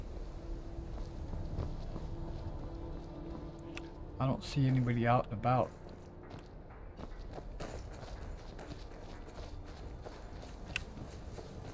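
Horse hooves trot steadily in the video game Skyrim, a quiet, regular clopping that carries on throughout while a person speaks briefly over it partway through.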